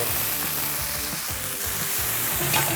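Spinach stir-frying in a pan with a little water added makes a loud, continuous sizzle and hiss, with stirring scrapes underneath, all close up and with no voices.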